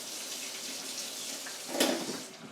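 Running tap water splashes steadily as mixer beaters are rinsed in a kitchen sink, with a brief louder gush near the end; no one speaks.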